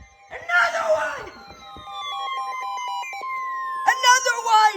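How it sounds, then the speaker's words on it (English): Tornado warning sirens wail far off, a long tone sliding slowly downward and holding, while excited voices shout loudly at the start and end. "Sirens, baby! We got sirens!"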